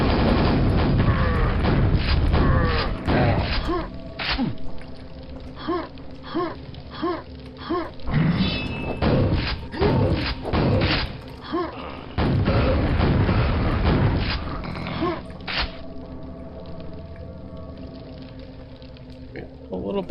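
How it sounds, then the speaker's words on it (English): Rocket launcher fire in the game Quake: a rapid run of booming shots and blasts with mechanical clatter, under a voice talking through much of it. "Rocket launcher, okay."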